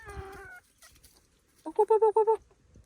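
Chickens cluck nearby while eating leftover som tam scraps: a lone call at first, then a quick run of five or six loud, evenly spaced clucks, with faint scratching between.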